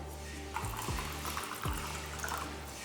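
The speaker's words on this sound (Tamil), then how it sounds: "இந்த 3/4 கப் அளவுக்கு 4 வாட்டி ஊற்றணுங்க" Water is poured from a cup into a rice mix in a kitchen, a few short splashing pours at close range, fairly quiet, over a faint background hum.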